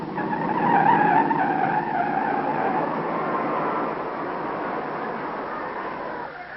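A race car at the 1954 Indianapolis 500 spinning out during a qualifying lap at about 139 miles an hour, heard as a sustained, loud engine roar with tire squeal and skidding noise that gradually fades.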